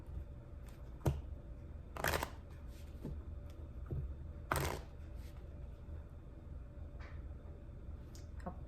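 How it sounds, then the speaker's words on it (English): A deck of cards is shuffled in a quiet room, with a few sharp riffling bursts and snaps spaced seconds apart between softer handling rustles. "So let's get a good shuffle on these cards."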